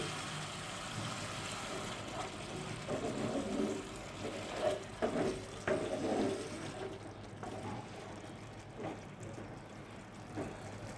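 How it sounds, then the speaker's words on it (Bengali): A little water poured into cooked-down egg curry masala in a pan gives a quiet, close splashing and trickling that swells briefly in the middle, under a faint background hum, with no talking. "এখন আরও একটু জল দিয়ে দিচ্ছি।"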